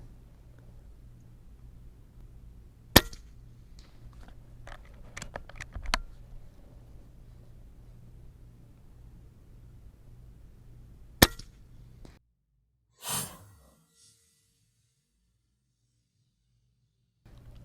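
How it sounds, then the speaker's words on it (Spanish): Two sharp, isolated cracks from an Air Venturi Avenge-X .25 PCP air rifle several seconds apart over a quiet background, with a few faint clicks between and a brief thud near the end. "Excelente disparos a 125 yardas."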